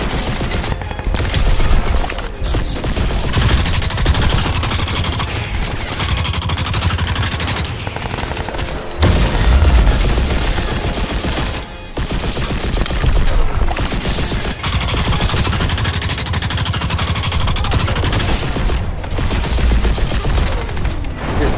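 Sustained rapid automatic fire from the K-Volt weapon in the shooter Crysis 2, loud and dense for the whole stretch, with brief gaps and heavy booming hits against a large robot.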